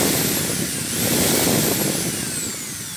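A power drill runs steadily as its straight bit drills out the rivet of a clamped Hot Wheels die-cast miniature car, giving a continuous high whine with slight shifts in pitch and no voices.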